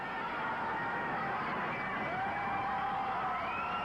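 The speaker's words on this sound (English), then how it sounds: "Tremendous crowd on hand here tonight" A large arena crowd at a Maple Leaf Wrestling NWA US Championship match between Jimmy Snuka and Angelo Mosca cheers and murmurs steadily throughout, a dense continuous roar with faint whistles drifting over it.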